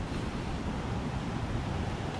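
Water from a spring-fed pool pours out as a steady, broad rushing wash, continuous and fairly close, with no voices.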